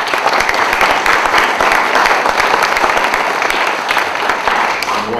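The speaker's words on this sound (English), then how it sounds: "We can give them a round of applause." Sustained, loud crowd applause from an audience at the dedication of the Robert A. Junell Overpass, dense clapping filling the whole span without pause.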